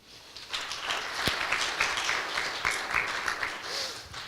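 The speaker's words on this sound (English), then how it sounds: "I would like a big applause for the team of Business Days" Scattered clapping from an audience at a business conference in Cluj, Romania, starting thin and swelling into moderate applause heard from a distance in a hall, with a few sharper individual claps.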